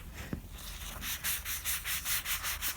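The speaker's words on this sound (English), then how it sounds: "It just needs a light sand, and so I'm going to be using some polishing papers for that." Fine 400-grit polishing paper rubbed over a surface in a light sanding pass, giving a run of steady, even back-and-forth scratchy strokes after a brief start, close and moderately loud with no talking.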